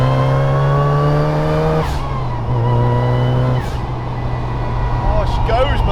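A supercharged widebody Mazda MX5 MK2 revs and accelerates hard. The loud engine note climbs through rising pitch sweeps, drops at each gear change, then climbs again.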